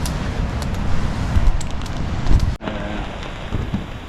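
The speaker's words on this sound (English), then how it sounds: "Oh, it's raining now." Rain patters steadily at a riverside campsite on the Spero River in Tasmania, a dense hiss of drops on tent and ground with a brief break midway, outdoors and close.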